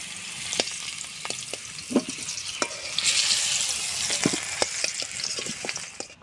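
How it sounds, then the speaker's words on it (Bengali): Potato and papaya pieces fry in oil left from frying fish, a steady close sizzle broken by sharp pops and spatters, with occasional stirring, and no talking. "মাছ ভাজা তেলের ভেতরে আলু আর পেঁপেটা আমি সুন্দর করে ভেজে নেব।"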